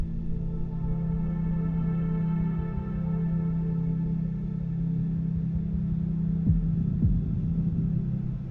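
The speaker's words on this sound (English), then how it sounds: "I think you can hear my fan quite a lot on my microphone" A computer fan hums steadily close to the microphone, a constant low drone with a faint throb that runs unbroken throughout, with a brief soft knock near the end.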